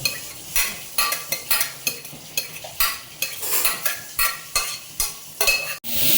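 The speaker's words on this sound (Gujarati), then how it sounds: "હવે આપણે અંદર દાળ મિક્સ કરીશું ઓલા તડકામાં" Cooked dal is stirred into a hot tadka in a pot, giving a crackling sizzle broken by rhythmic scraping strokes of a spoon, close and clear, with a metallic clink near the end.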